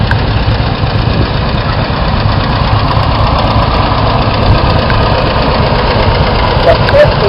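A vintage Model 60 tractor engine runs at a harvest reunion festival, a loud, steady low rumble with an even throbbing idle that continues without a break.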